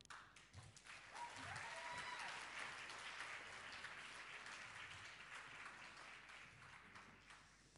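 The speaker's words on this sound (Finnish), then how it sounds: "Antakaan itsellenne oikein isot aplodit." Concert audience at a choir event claps in a sustained burst of applause, dense and steady, building quickly and tapering slightly toward the end, heard from within the crowd.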